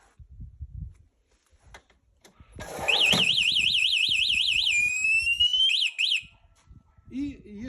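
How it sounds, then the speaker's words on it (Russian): A dirt bike's anti-theft alarm blares a loud warbling electronic siren that rises and falls rapidly, then shifts to a sliding tone and short chirps, preceded by clicks and handling noise. "включается сигнализация."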